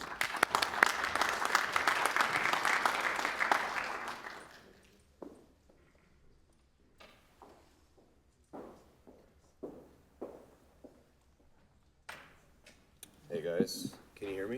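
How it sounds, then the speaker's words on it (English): An audience at a cryptoeconomics workshop applauds in a dense burst of clapping for about four seconds, then it fades into scattered footsteps and handling sounds. "A round of applause, please."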